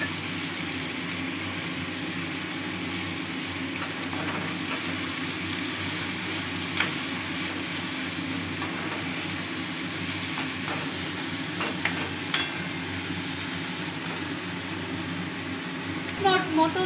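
Green chillies sizzle steadily in a pan for restaurant-style dry chilli chicken, with a continuous frying hiss and occasional scrape-like stirring sounds running unbroken for about seventeen seconds.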